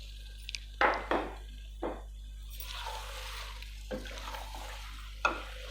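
Potatoes and green chillies fry in a pan, a soft sizzle running underneath while a utensil scrapes and knocks against the pan in a few separate stirs, close by and with no voices.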